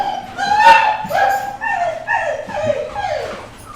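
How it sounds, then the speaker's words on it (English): Several dogs bark and yip excitedly indoors as someone arrives home, overlapping high whiny barks and whimpers in quick succession, loud and close. "excuse the dogs, that's somebody turning up at home."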